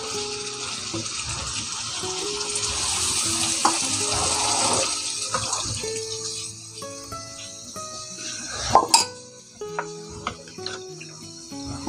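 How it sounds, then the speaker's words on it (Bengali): Water poured into a pot of desi chicken bhuna curry, a close, steady gushing pour for several seconds that gives way to scattered clinks and small splashes, with no speech. "এখন এর মধ্যে পানি দিয়ে দিব।"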